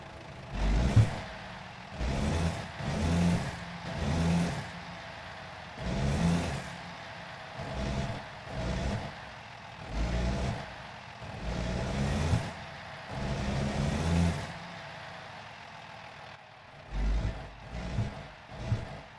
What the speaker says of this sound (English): What does the engine sound like with the F-mod enabled on this Volvo?